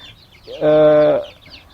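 A single short, loud, tonal cluck-like call comes from a backyard chicken of Bangkok and Burma cross stock, standing alone against quiet ambience.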